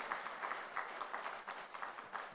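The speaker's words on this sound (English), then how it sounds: "Round of applause to her once again." Applause from a conference audience in Banjul, The Gambia, for the First Lady: a soft, fairly distant patter of many hands clapping, steady and moderately quiet throughout.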